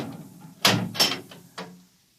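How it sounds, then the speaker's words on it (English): A door opening as a sound effect in a 1955 radio drama: a few quick, close clicks and knocks of a latch and handle, fairly quiet and heard alone. "Open the door."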